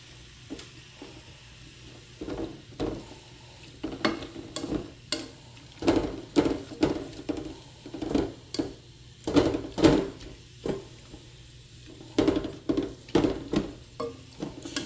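Mild chili cooking in a pot, with repeated close clinks and scrapes of a utensil stirring against the pot in irregular bursts over a low background hiss.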